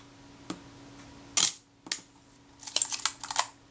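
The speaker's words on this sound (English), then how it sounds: "The shutter fired, and the film release was released" Shutter of a Retina Reflex S camera firing on a workbench: close, crisp mechanical clicks, one sharp snap followed by a short cluster of rapid metallic clacks, with quiet pauses between.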